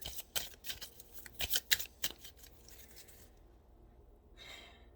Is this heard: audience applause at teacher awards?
no